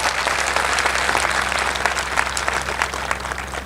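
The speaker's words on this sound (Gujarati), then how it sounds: "એક વખત એર ઇન્ડિયાના પાયલોટો માટે જબરજસ્ત તાળીઓ થવી જોઈએ" An audience at a political gathering bursts into loud, sustained applause, dense clapping continuing steadily throughout without letup.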